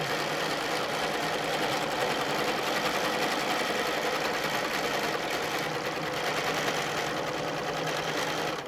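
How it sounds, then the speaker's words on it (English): A domestic sewing machine stitches along a quilting ruler during rulerwork, its motor humming with a fast, even needle rhythm, close and unbroken from start to finish. "I'm just going to sew over that same line before I move the ruler"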